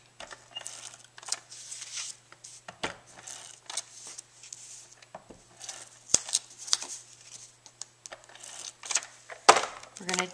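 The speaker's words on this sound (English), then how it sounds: "we're going to tape." Tape pulled off and pressed onto paper for a handmade mini album box: scattered crinkly rips, taps and rubbing pats, soft and close, with quiet pauses between.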